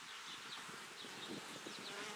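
Dense, even buzzing of a strong honey bee colony in an opened brood chamber after overwintering, a close, continuous hum of many bees with wingbeat flickers throughout.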